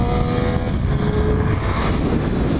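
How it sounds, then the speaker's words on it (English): Race car engine at Thompson Speedway in Connecticut, loud and close from onboard as the driver downshifts into second gear for a tight corner, a continuous roaring drone with pitch changes. "Down into second gear for this one, it's pretty tight."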